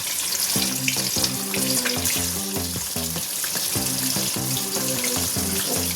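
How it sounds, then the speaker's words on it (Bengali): Paneer pieces frying in hot oil for an aloo paneer biryani, a steady close sizzle with rhythmic bubbling pulses running throughout, loud and alone with no talking. "পনিরগুলো আমরা আস্তে আস্তে এগুলোকে ভেজে নেবো"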